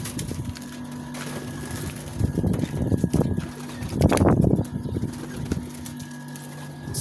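Homing pigeon cooing close by in soft, throaty rolling bursts, swelling in two louder clusters over a steady low hum and faint outdoor background.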